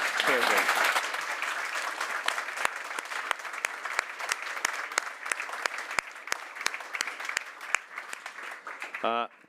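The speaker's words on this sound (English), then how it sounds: "a ripple of applause" An audience at a whisky forum panel discussion claps steadily, loud at first then thinning into scattered claps before fading out.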